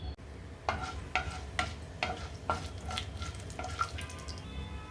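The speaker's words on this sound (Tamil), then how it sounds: "எண்ணெய் சூடானதுக்கப்புறம் இதில் கடுகு, உளுந்தம்பருப்பு, வெந்தயம், சோம்பு, சீரகம் எல்லாம் சேர்த்துக்கிறேங்க." Mustard seeds, urad dal, fenugreek, fennel and cumin fry in hot oil, crackling and popping in a run of sharp, fairly regular bursts over a low sizzle, with no voices.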